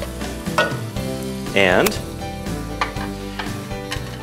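Beef tips sizzle loudly in a hot pan as they are stirred back in, with a steady frying hiss, scraping stirs and a brief burst of louder sizzling; a voice speaks briefly.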